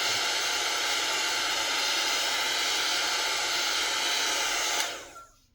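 A heat gun blows hot air to melt wax on a handmade journal, a loud, steady close-up roar of rushing air that holds for several seconds and then winds down as it is switched off.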